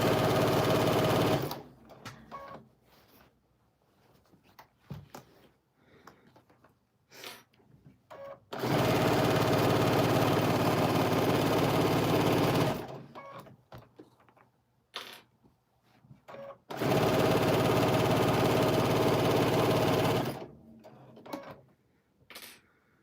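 A sewing machine quilting a baby quilt runs in three long, steady bursts of rapid whirring stitching, close and fairly loud, separated by quiet gaps with faint handling clicks and fabric rustle.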